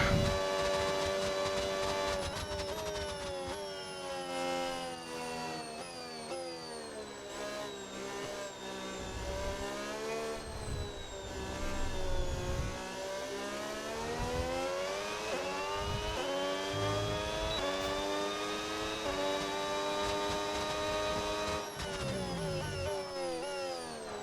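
A Formula 1 race car engine in the F1 26 video game screams at high revs, pitch climbing and dropping through gear shifts and braking over a lap, loud and continuous with no talking.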